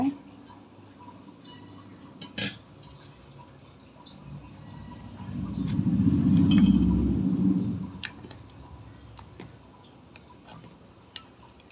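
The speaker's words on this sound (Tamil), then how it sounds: "இப்போ நம்ம காய்ச்சி வச்சுருக்க வெள்ளைப்பாக இதில் அடியில் மண் இருக்கனால ஒரு சல்லடை வச்சு நம்ம வடிகட்டிக்கலாம்" Jaggery syrup made for millet sweet pongal is poured through a sieve to strain out grit, a soft liquid swell rising and fading midway among faint ticks and drips.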